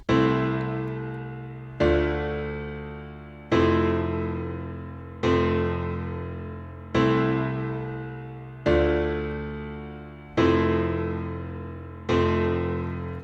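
A melancholic chord progression with an inversion in the second chord. Eight full chords are struck alone at an even pace, about one every 1.7 seconds, and each rings out and fades before the next.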